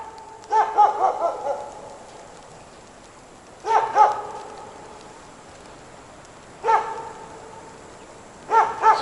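A dog barks outside a forest cabin at night, in four short bursts of a few barks each, spaced apart and moderately distant, with quiet between them.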